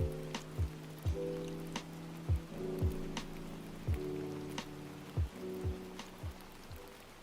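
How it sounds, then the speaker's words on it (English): Steady rain ambience from the city-building video game Against the Storm, a soft continuous patter with low rumbling swells and occasional thuds beneath a faint tonal music bed. "it has its own rain ASMR"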